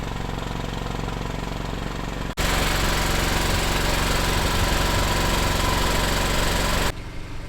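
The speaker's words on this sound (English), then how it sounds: "So you can see our generator is running now," A backup generator runs during a night-time power outage test, a loud steady engine drone that jumps sharply in intensity partway through, holds for several seconds, then drops back down.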